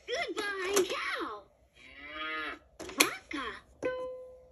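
A toy cow's recorded moo plays from a Fisher-Price activity table: several drawn-out electronic lowing calls with harmonic tones, loud and close, alongside the toy's short electronic voice phrases and chimes.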